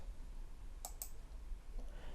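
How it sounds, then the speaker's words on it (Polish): Two quick, crisp mouse clicks land close together near the middle, faint over a low steady background hum, with a softer tap following shortly after. "i klikam OK"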